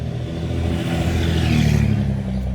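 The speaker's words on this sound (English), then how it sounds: "I just wanted to let that truck pass." A loud, continuous engine rumble with deep low tones and rising mechanical whine as a heavy vehicle passes close by, no voices.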